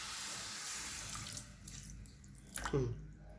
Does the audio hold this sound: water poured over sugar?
yes